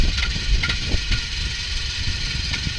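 Limousine engine idles roughly and misfires, a loud, uneven low rumble with irregular stumbles and pulses throughout.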